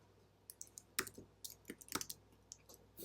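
Mouse clicks and light keyboard typing while entering a formula into a spreadsheet cell, a loose scatter of soft, close taps and clicks in a quiet room.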